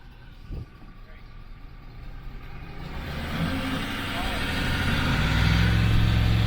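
A Ford pickup truck engine rumbles and revs at the line before a drag race against a second-gen 3.5 EcoBoost, rising steadily from a low idle to a louder sustained roar.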